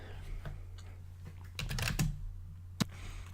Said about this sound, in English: So I just finished typing in some